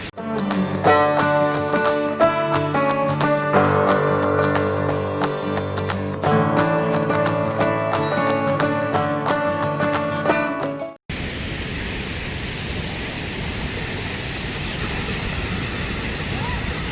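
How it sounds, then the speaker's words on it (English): Steady broadband roar of a waterfall near a creek bridge on a muddy trail, loud and continuous, heard alone after a stretch of music. "and there's the falls"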